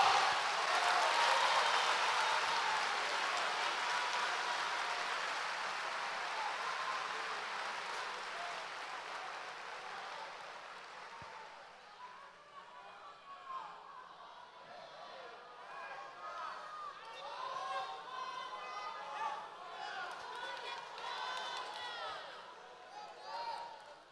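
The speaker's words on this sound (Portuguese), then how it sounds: "Aplauda a Jesus Cristo," A church congregation in São Paulo applauds loudly for several seconds, the clapping swelling at first and then fading, giving way to a low murmur of voices and a preacher speaking.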